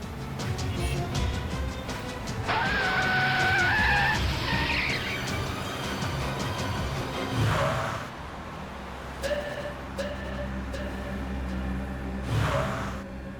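A car swerves on the road with a rising tire squeal over steady engine and road noise, followed by calmer driving rumble and a few faint squeaks.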